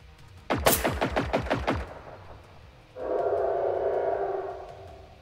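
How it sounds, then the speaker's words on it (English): A hostile war machine in the video game Generation Zero fires a rapid burst of about a dozen sharp, loud shots, then a sustained droning whine follows, with no talking. "There was only one tank firing."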